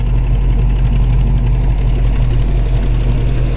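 A 1934 Ford Tudor steel sedan street rod idles on a chilly, misty morning, its engine a loud, close, steady low rumble with an even pulsing throb throughout.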